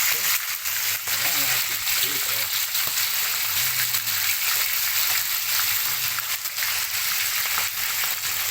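Freshly caught fish frying in hot oil outdoors by a marina, a dense and constant crackling sizzle throughout, with someone speaking briefly in the background.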